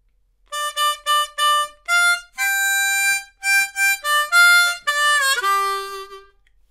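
A blues harmonica in C plays a short fill from a song: a quick series of bright, reedy notes and held bends, close and loud with no other sound.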